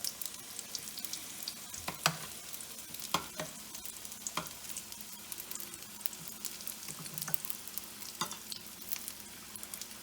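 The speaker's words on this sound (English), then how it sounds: "Just fry until it's nice and golden evenly" Wonton-sheet pockets filled with cilantro pan frying in oil, a continuous quiet crackling sizzle with occasional sharp spatters and light turning clicks, close and steady throughout with no speech.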